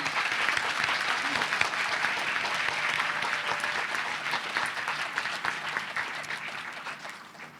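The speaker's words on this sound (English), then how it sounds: "big round of applause" Graduates and guests at a University of Reading Malaysia graduation ceremony give themselves a big round of applause, many hands clapping in a full, continuous wash that gradually softens toward the end.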